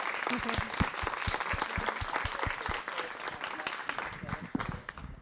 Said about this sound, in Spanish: un aplauso para todas y todos.